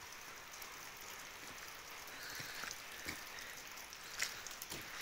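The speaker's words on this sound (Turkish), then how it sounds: "Sulu kar yağıyor arkadaşlar." Sleet falling outdoors on a village rooftop with a smoking chimney nearby, a soft steady patter with occasional sharper drops, faint and continuous with no talk.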